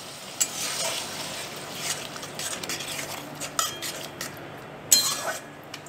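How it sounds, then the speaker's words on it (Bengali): A metal spoon scrapes and clinks against a pan while yogurt is stirred into a mushroom curry masala. The sharp knocks come at irregular intervals over a quiet kitchen background, with no voices. "এবার 10 সেকেন্ড কষার পর আমি এবার এতে দইটা দিয়ে দেব। এটাকে একটু আমি মিক্স করে নেব।"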